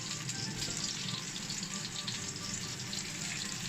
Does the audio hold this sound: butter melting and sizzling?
yes